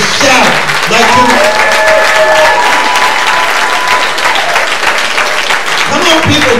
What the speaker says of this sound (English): Somebody clap your hands and shout like you.